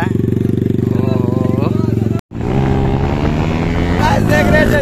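Yamaha R15 V3 motorcycle fitted with an aftermarket exhaust, ridden past on a village road: a loud, close, rapid-pulsing engine drone with a brief cut, then rising revs, with someone talking excitedly over it.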